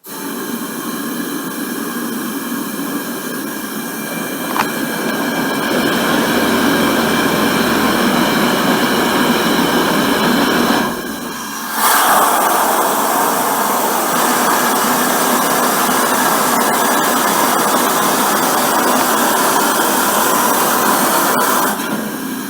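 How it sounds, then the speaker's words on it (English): A compressed-air pulley runs deep in the Mollie Kathleen gold mine, giving a loud, steady hissing roar that cuts out for about a second and then surges back, echoing in the tunnel with no talking. "And then using this air pulley, we can take that equipment all the way to the mine."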